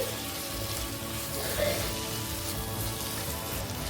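Chopped tomatoes and turmeric sizzle in a pan for a dried fish and brinjal curry. The frying hiss is steady and close, with a faint hint of a voice under it.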